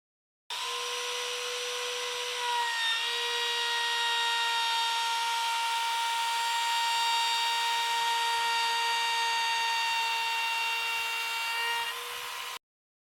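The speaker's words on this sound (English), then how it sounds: "Super smooth operation, not a lot of vibration at all, especially for a router" A router cutting wood at reduced speed gives a smooth, steady, high-pitched whine that starts abruptly, holds evenly with a slight pitch dip, then cuts off, close and alone.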